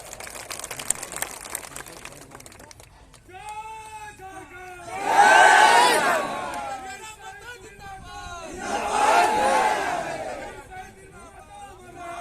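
A large crowd at a political rally in Kolhan, Jharkhand, roars and cheers in two loud, swelling bursts between stretches of someone speaking through amplification.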